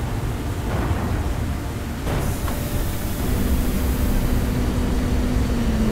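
An aircraft in the XCOM game roars in a broad, steady rush of engine noise that swells slightly toward the end, with a faint tonal whine joining after a brief thump.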